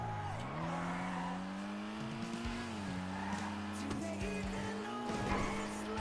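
Race car engine in a NoPixel GTA racing game, revving steadily with shifting pitch and brief tire squeals, loud and continuous without voices.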